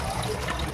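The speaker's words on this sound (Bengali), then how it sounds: "একদম সুন্দর করে ধুয়ে নিয়ে এবার জল ঝরাতে দিয়ে দেবো" Water trickles and drains steadily from freshly washed potatoes in a home kitchen, a soft continuous patter with no voices.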